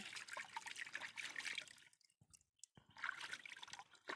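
Wild mushrooms being washed by hand in water, with soft splashing and trickling that stops briefly mid-way then resumes, faint and close.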